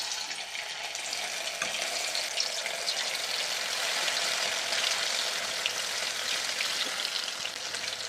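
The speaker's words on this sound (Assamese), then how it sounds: "এখন কেৰাহীত ৰিফাইন তেল গৰম হ'বলৈ দিলোঁ। এতিয়া তেল গৰম হৈ গ'ল। মই এতিয়া চয়াবিনবোৰ এটা এটাকৈ দি যাম।" Soya chunks sizzle in hot refined oil in a wok, a steady, dense crackling hiss that holds at an even level throughout with small pops scattered across it.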